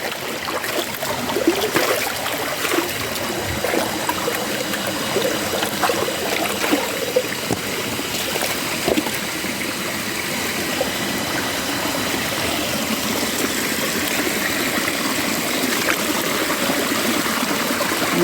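Clean spring water flows steadily from a mountain source, a continuous close trickle and stream of running water with no voices.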